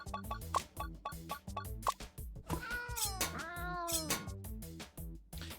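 Cat meowing in the video game Roulette Hero, a couple of drawn-out meows rising over busy game music with steady rhythmic beats and chiming effects.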